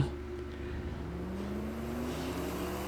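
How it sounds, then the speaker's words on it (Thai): Steady engine drone with a rising tone, a video game car motor running and shifting gears, pitch changing continuously, fairly loud and alone with no talking. "มันเป็นเสียงถอดเกียร์ผมถอดเกียร์แล้วมันจะมีเสียง ชี้ชี้ชี้อย่างเงี้ย"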